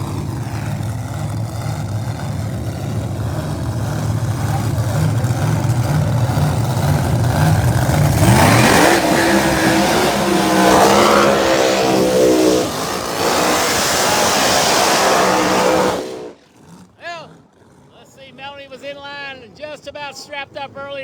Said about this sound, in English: Melanie Salimi coming at us in a Roots Blown Slice and Ice machine and a Pro Charger over there.